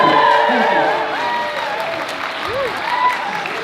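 An audience at the WeBreak Hip-Hop Dance Company spring recital claps and cheers, steady crowd applause running underneath voices and tonal sounds that sit on top of it.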